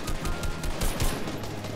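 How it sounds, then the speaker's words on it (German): Rapid bursts of gunfire from Fortnite Battle Royale, dense and continuous for a moment, with heavy low thumps under the crackle. "Oh, ich werde beschossen."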